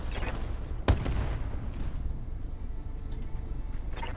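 Mech weapon fire in the Battletech video game: one sharp, loud broadband blast near the start, trailing into a rumbling decay over a steady low background drone.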